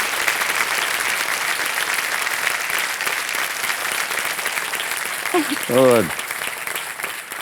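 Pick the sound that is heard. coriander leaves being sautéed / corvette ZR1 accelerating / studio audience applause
studio audience applause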